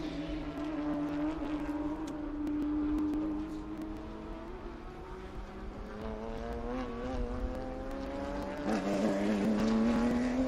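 Historic race cars at the Sebring SVRA event pass at speed, their engines a continuous loud roar with pitches that rise and fall as the field crosses the line.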